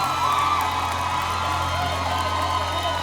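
Crowd cheering and whooping at a car giveaway as a woman heads to her brand new car, a steady roar of voices with shouts rising above it.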